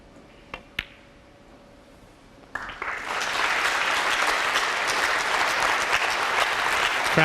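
At the 2019 Welsh Open snooker, a hushed arena holds quiet with a couple of sharp knocks, then swells into sustained, steady applause from the crowd as Noppon Saengkham closes in on a 147 maximum break.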